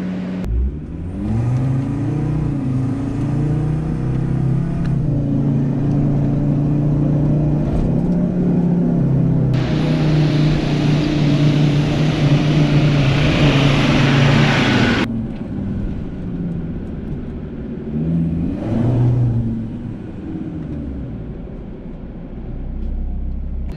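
A four-wheel-drive car climbs a sandy beach track in low range third gear on highway tyre pressure, its engine droning and straining steadily at close range for over twenty seconds, with a surge of hissing wind or sand noise midway and no talking.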